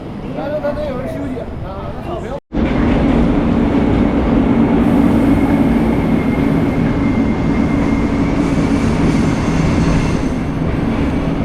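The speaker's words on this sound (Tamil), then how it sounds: "ட்ரெயின் வந்துடுது பாருங்கள்" A Chinese-built train arrives at a station in Laos with a loud, steady rumble and rushing noise, following brief talking at the start.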